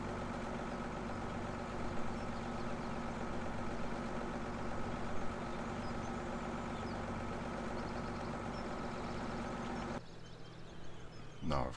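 A tractor engine idles in the Farming Simulator 17 game, a steady, continuous mechanical drone that holds a constant hum for most of the stretch, then drops to a quieter, thinner tone near the end.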